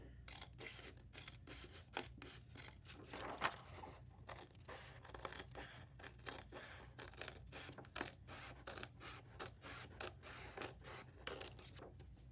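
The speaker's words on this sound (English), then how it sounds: "Once I finish cutting all 4 sides" Scissors snip steadily around all four sides of a paper print, a quiet run of short crisp cuts and faint paper rustles, close and alone.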